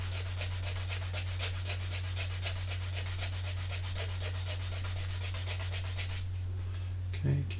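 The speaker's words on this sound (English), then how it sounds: "we sand in a little bit more, we should be absolutely fine" Hand sanding on a wooden model part: steady, rhythmic rasping strokes repeat close up for several seconds, then stop, leaving a faint low hum and a brief knock.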